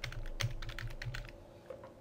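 Fingers type on a computer keyboard in a steady run of soft clicking keystrokes, close and even, with no voices over them.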